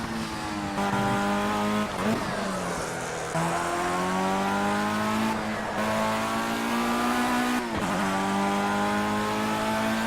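Formula 1 race car engine in Project CARS on Xbox One, a loud sustained high-pitched whine rising through the gears with several sharp shifts and brief dips, close and continuous with no talk.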